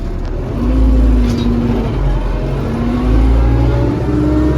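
A tractor pulls a Veles Agro KPG 4.5 cultivator off in second gear, its engine droning loud and steady nearby, with pitch rising in two rev swells over the constant rumble.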